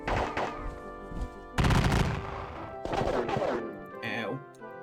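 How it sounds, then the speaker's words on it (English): Gunfire volleys from a Gettysburg wargame on computer, several dense bursts of musketry crackling in quick succession, loud and close, with no talk. "Open fire."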